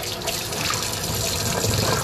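Running water splashes steadily as sea moss is rinsed under a tap in a sink, a continuous close hiss and trickle with no talk.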